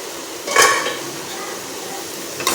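A spoon stirs paneer masala in a pan on a medium-low flame, giving one loud scraping clatter followed by quiet simmering and a brief knock at the end.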